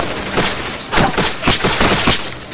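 Rapid bursts of gunfire crack through a Watch Dogs shootout, several sharp shots in quick succession, loud and close with little else heard.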